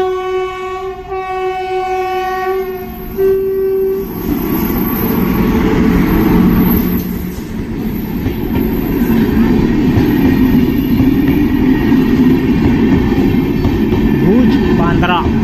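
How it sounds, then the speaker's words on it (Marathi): A Bhuj–Bandra passenger train passes a closed railway crossing with road traffic waiting. It opens with a loud sustained horn blast, then the close, heavy rumble and rhythmic clatter of passing coaches builds and continues. "फायनली मंडळी ट्रेन आलेली आहे, आम्ही वेटिंग करतोय।"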